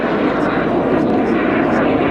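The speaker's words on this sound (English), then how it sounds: "It's a beautiful aeroplane." A propeller aeroplane in immaculate condition, wearing old training-unit markings, drones past at an air and car show, a steady loud engine roar with a commentator talking over it.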